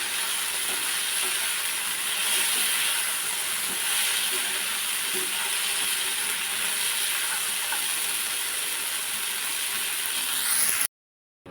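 A kitchen mixer grinder blends fried turkey berries in its jar. The motor gives a loud, continuous whirring hiss that holds steady for about eleven seconds, then cuts off abruptly.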